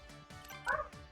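A dog barks outside in a short run of yips and whimpering barks, faint and distant, with a voice briefly present.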